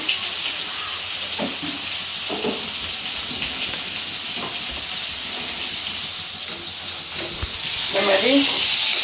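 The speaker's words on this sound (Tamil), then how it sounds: "நல்லா எண்ணெயில் அப்படி வறுத்து பாருங்கள்" Pieces of dried vanjaram seer fish frying in oil, a close steady sizzle and hiss with intermittent stirring clinks, growing louder toward the end.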